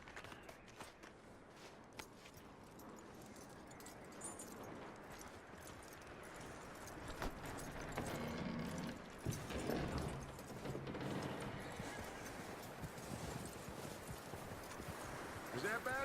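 Horse hooves clip-clop in the Red Dead Redemption 2 video game, a steady walking rhythm of muffled hoofbeats that continues beneath voices talking and background game sound, growing somewhat louder partway through.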